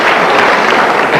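Talk-show studio audience on the Arsenio Hall Show claps in a brief, loud, dense burst of applause.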